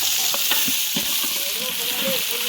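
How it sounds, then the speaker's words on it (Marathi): Onion fries in hot oil for chicken biryani cooked over a wood-fired stove, a loud unbroken sizzle close up with intermittent stirring scrapes beneath it. "तेल गरम झाल्यावर आपण त्याच्यामध्ये कांदा टाकूया. हां आता कांदा टाकूया, फ्राय करून घेऊया मस्त"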